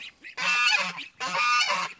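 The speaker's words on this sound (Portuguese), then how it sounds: "os gansos velhos adultos chegaram ali, estão vendo eles e estão gritando" Adult geese honking loudly in two long, harsh bursts close by, separated by a brief pause, with softer honks around them and no talking.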